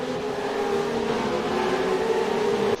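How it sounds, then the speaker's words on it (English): Boxer Cup race cars at Queensland Raceway hold a steady, loud engine drone at the race start, revs sustained with a strong tonal hum, then cutting off abruptly at the end. "Revs rise, the lights are on. Away we go."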